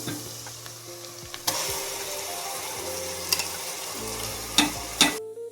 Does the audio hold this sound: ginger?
yes